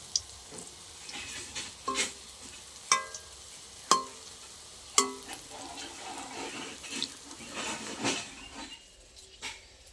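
Ras bora fritters frying gently in oil over low heat, a soft steady sizzle broken by several sharp clicks and scrapes as the fritters are turned in the pan.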